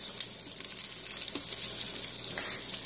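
Mozzarella meatball potato balls fry in hot oil, giving a steady close-up sizzle with a wash of bright crackling and faint popping throughout, with no voices.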